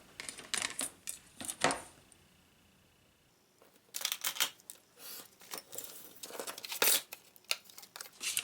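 Scissors snipping through craft paper to trim a sheet for a handmade travel folio, a few short crisp cuts near the mic, then a quiet pause before more handling and snipping.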